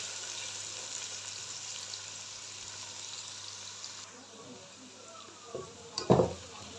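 Mixed vegetables frying in a pan for bhujia make a faint, steady hiss of sizzling, ending with a couple of sharp knocks of a utensil against the pan.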